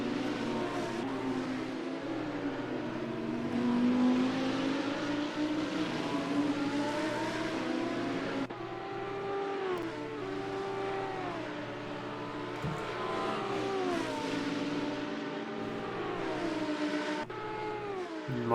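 Race cars lapping Road Atlanta in a sim racing video game, engines wailing with repeated rising and falling pitch sweeps as they accelerate and shift, several cars overlapping at moderate level without talk.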